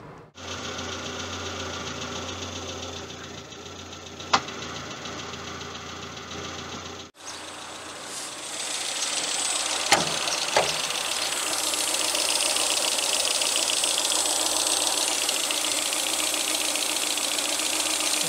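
Peugeot 205 petrol engine running on ethanol, with a known slipping clutch, idling with a steady knocking drone; partway through the sound shifts to a louder, brighter running tone, close by and continuous with no talking.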